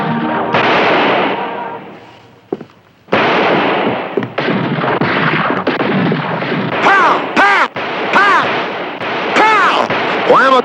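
Gunfire rings out in a comedy western film. Sharp loud shots and blasts are mixed with raised voices and shouting throughout.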